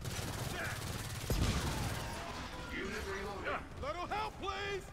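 Bursts of automatic rifle fire crackle in Gears of War 4 combat, mixed with game effects and character voices speaking over the action.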